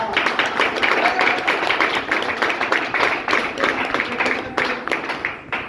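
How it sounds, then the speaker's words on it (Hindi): An audience at a rank achievement event claps in a loose, rhythmic pattern of distinct hand claps, steady and fairly close for several seconds. "मैं चाहूँगा कि उनके नाम पे एक बार जानदार और शानदार तालियां हो मिस्टर महिपाल सर के नाम पे"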